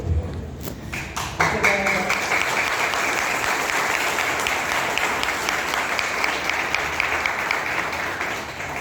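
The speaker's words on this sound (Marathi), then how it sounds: "जोरदार काय वाजवा, जोरदार काय वाजवा" An audience at a business seminar bursts into loud, sustained applause after a few scattered early claps, the dense clapping filling the room evenly to the end with voices faintly beneath it.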